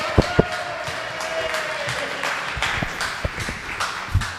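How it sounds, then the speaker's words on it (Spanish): Audience applause welcoming a magistrate at a panel event, a steady wash of many hands clapping that runs the whole time, with a few sharper claps standing out. "querido magistrado Felipe de la Mata Pizaña para que por favor lo recibamos con otro fuerte aplauso."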